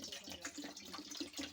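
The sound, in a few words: water being poured into a pan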